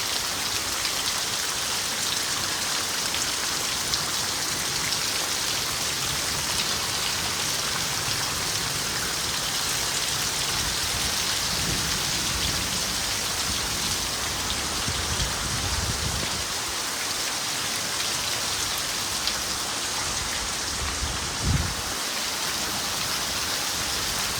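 Heavy rain pours down in a dense, continuous roar, drops pattering on surfaces close by with no let-up and no voices.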